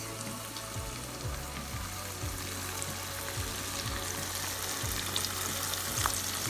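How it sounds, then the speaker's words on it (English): Flour-dusted red snapper frying in a pot of hot oil: a loud, continuous, close crackling sizzle with a faint low hum underneath. "I'm going to place it in the pot of hot oil"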